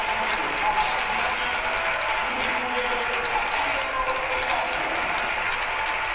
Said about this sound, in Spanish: escuchen el aplauso cerrado